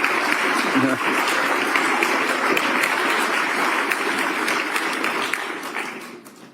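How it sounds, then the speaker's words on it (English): Sustained applause from a crowd, even and full for several seconds before tapering off at the end. "The clap is for you"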